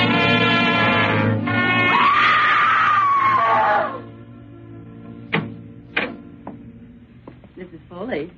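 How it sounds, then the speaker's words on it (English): A woman's long, loud, sustained scream rings out in an old-time radio drama, followed by sharp knocks or thumps and brief, quieter vocal sounds. "she went screaming out the front door and towards the street"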